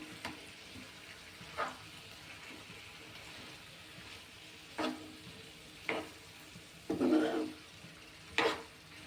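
Bottle gourd curry with salt and chili powder being stirred in a pan, a faint low simmer broken by a few sharp spoon knocks and scrapes spaced a second or two apart.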